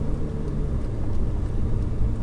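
A Ferrari 488 GTB rolls into the pit lane at Circuit Maison Blanche, its engine a low, steady rumble heard from inside the car, with no one speaking.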